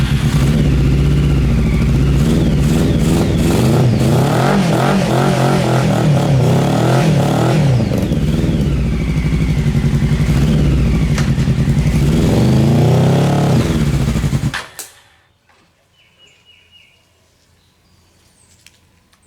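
A Honda CBR 600 engine on a reverse trike revs hard and steadily during a burnout, loud and close with rising and falling pitch, then cuts off abruptly to near silence.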